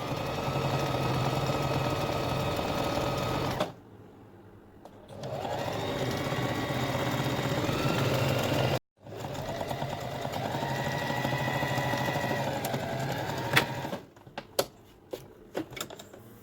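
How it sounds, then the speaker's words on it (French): A sewing machine stitches a fabric scrunchie in steady mechanical runs, pausing briefly twice before a last stretch that ends in a few sharp clicks; no one speaks. "tout en longueur, sans oublier nos points d'arrêt au début de la couture et à la fin de la couture"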